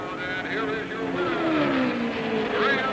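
A race car, number 24 driven by Graham Hill, laps the track toward the checkered flag with a loud, sustained engine whine that rises and falls in pitch as it passes.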